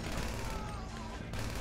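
Sniper rifle fire from Grand Theft Auto Online, a dense, steady run of gunfire and booms filling the short stretch with a brief dip near the end, loud and continuous without speech.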